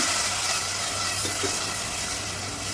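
Sugar syrup flows into a pan of halwa, a soft, continuous watery pouring and bubbling sound heard close up and alone.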